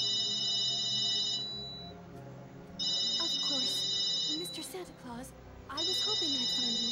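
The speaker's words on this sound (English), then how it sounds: "Phone!" A telephone rings in Kingdom Hearts 2, three bursts of a shrill electronic double ring with gaps between them, while characters speak over and between the rings.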